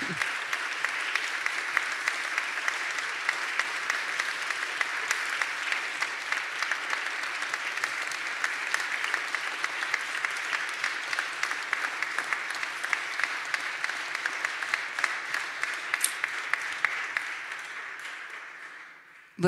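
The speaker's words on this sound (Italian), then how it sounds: "c'è un grande applauso" An audience gives a long, sustained round of applause, dense clapping that holds steady for most of the time before fading out at the end.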